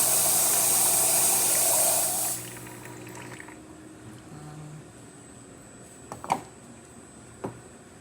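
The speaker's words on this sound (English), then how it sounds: "Steam for this machine, as you can see, it's a nice steady steam" Steam hisses loudly and steadily from a Zacconi espresso machine's steam wand after a new boiler and full service, then cuts off after about two seconds, leaving a quiet hum with a couple of faint clicks.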